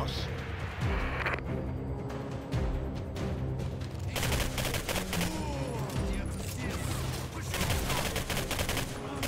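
Repeated gunfire bursts from the PC shooter game Singularity, rapid rattling volleys and single shots at moderate level, layered over the game's ambient sound and under people talking.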